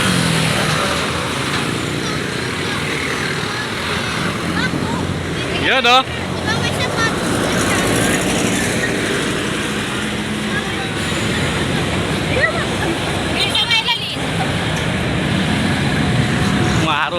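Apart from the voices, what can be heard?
road traffic on MacArthur Highway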